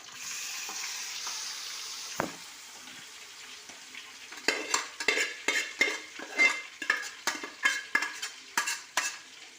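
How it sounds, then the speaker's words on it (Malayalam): Cooked chicken being stirred into a sizzling masala in a pan: a soft frying hiss at first, then a close run of rhythmic scraping spoon strokes, about a dozen in quick succession. "ചിക്കൻ ഇട്ടതിന് ശേഷം നന്നായി ഒന്ന് ഇളക്കി കൊടുക്കാം."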